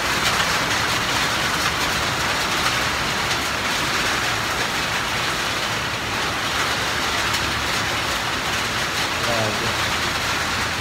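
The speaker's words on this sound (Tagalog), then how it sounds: "Grabe, biglang buhos yung ulan." Steady, dense rain hisses continuously, loud and broad, with faint voices beneath the downpour.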